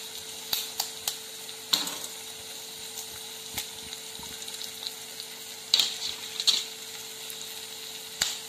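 Five beaten eggs cooking in a frying pan for egg bhurji give a soft background sizzle, broken by sharp clicks and scrapes of a spatula stirring at irregular moments.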